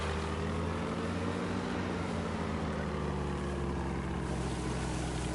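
A boat engine in a video game drones at a steady, unbroken level, a constant rumbling hum with a faint wash of water and wind.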